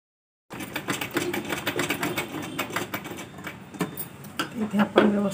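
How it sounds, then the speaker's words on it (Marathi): A sewing machine stitches across a blouse neckline with a rapid, steady mechanical clatter that runs continuously and close for about five seconds. "तर इथे मी शिलाई मारून घेते आणि तुम्हाला दाखवते."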